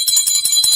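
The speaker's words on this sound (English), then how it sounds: "Where's my bell? Where's my bell?" A small bell rings in quick repeated tinkles, bright and steady, ringing alone for under a second.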